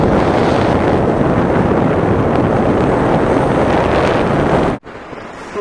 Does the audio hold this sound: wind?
yes